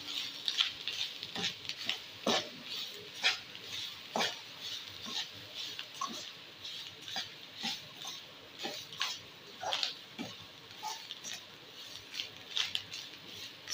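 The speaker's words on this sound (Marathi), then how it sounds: "सोय बरी भाजून घेता." Soya chunks are dry-roasted in a pan, with repeated scraping and clinking of a spoon stirring against the metal and a faint sizzle in between, quiet and close.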